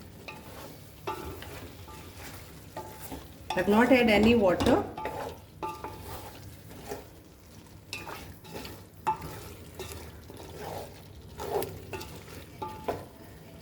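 Chicken biryani sizzles in a pot with no water added, a soft, steady frying under a spoken voice, with stirring and scraping in the pan that make brief louder bursts.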